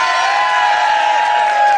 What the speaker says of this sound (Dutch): ik wil even vragen een waanzinnig applaus te geven voor Priscil!